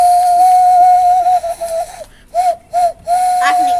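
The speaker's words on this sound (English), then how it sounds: "I can make a really loud whistle." A person whistles loudly with the lips, holding one piercing, steady tone for about two seconds, then several short blasts separated by brief gaps, close to the microphone.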